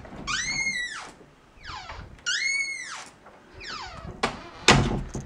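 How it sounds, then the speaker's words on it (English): A creaky door hinge squeals in several drawn-out, wavering creaks as the door swings back and forth, close and fairly loud, ending with a dull thud as it shuts. "do you hate creaky doors as much as I do?"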